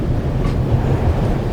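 A train in the video game The Raven: Remastered rolls along with a loud, steady low rumble of wheels and carriage, heard continuously with no voices.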